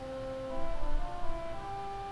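A soft, sustained pipe organ salicional string stop plays a few held notes, thin and slightly reedy, quiet and alone.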